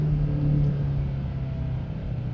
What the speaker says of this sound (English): Now I'm gonna downshift it manually.